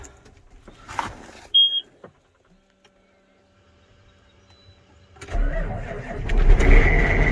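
A vehicle engine in the snow cranks briefly and then catches, settling into a steady, loud idle that runs to the end after a quiet stretch with faint sounds.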